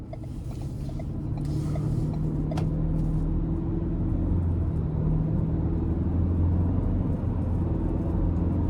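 2026 Ford Ranger XL STX with the 2.3 engine accelerating in sport mode, a steady loud low engine drone with rising tonal hum heard from inside the cab, no talking.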